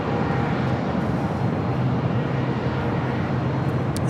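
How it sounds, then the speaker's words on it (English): A 21-year-old Boeing 747-400 freighter at LAX airport, heard as a loud, steady broadband engine roar that holds even and unbroken throughout, with no voices. "It's a 21-year-old 747-400 freighter."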